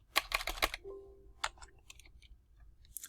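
Computer keyboard keys tapped in a short quick burst of clicks, then a few scattered lighter keystrokes, close and moderately quiet with no voices.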